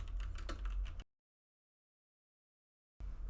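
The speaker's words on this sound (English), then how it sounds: "So maybe we'll type in something like this." Fast, dense key clatter on a computer keyboard fills about a second, then stops to silence and starts again briefly at the end.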